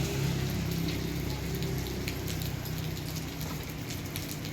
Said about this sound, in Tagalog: Pero may araw pero umuulan.